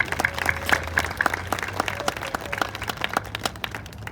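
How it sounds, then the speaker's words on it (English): Sustained applause from a crowd at an 8th grade promotion ceremony, dense overlapping clapping with a few louder claps standing out, steady throughout. "Let's give a big round of applause again to our staff."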